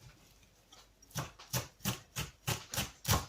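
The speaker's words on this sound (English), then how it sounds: "just chop your wee handful of parsley" Knife chopping a small handful of parsley on a board, a steady run of about seven crisp, evenly spaced chops that grow slightly firmer, close by with no talk.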